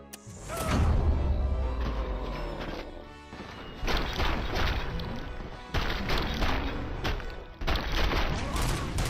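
Gunfire in the video game RoboCop: Rogue City, loud bursts of automatic shots with crashing impacts and booms, coming in several dense waves with brief gaps between them.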